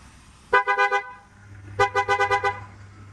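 A Maruti Suzuki Baleno fitted with an upgraded horn honks in two rapid rhythmic series of short pulsing toots, close and loud, with a faint engine hum beneath and no talking.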